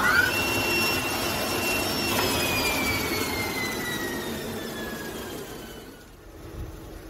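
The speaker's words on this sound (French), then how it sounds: "Le vide sur la table est créé par cette pompe à vide triphasée," A three-phase vacuum pump on an older MultiCam CNC router table runs loudly and steadily, with a whining tone that slowly drifts lower before the noise dips near the end.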